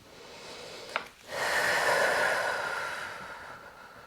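Deep breathing in a prenatal movement class: a brief sharp intake near the start, then a long, steady, airy breath that swells and slowly fades, close and fairly soft.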